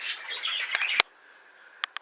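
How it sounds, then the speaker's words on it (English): About three-week-old budgie chicks in breeding cages chirp in a dense, high twittering chorus, then fall quiet behind a few close taps and knocks, nearby and fairly loud with no talk. "These chicks are about 3 weeks old"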